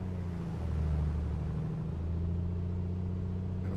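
Propeller aircraft engine running up in the NeoFly flight simulator: a steady, loud droning hum with a low tonal rumble that shifts slightly in pitch, continuous throughout with no talk.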